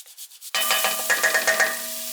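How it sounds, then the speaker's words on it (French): Three garlic cloves rubbed across a metal zester straight into a hot pan, a steady scraping rasp over sizzling oil that follows a few soft taps and lasts under two seconds. "je râpe à l'intérieur directement avec mon zesteur 3 gousses d'ail"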